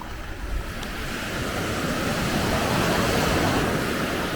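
Surf rolling in on Palolem Beach in Goa, a steady broad roar of breaking waves mixed with some wind on the microphone, building slightly and continuous throughout with no voices.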